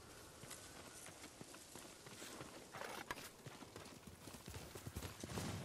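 Horse hooves clip-clop steadily on the ground in the Ghost of Tsushima video game, a brisk, close, continuous rhythm of hoof strikes with no other sounds over it.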